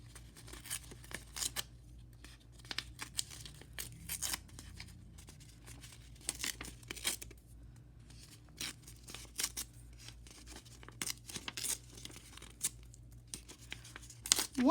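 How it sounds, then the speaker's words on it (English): Paper torn by hand into smaller pieces: a series of quick, close rips and crinkles in irregular bursts, fairly quiet overall with no talking. "Rip this big piece and then rip it into smaller pieces."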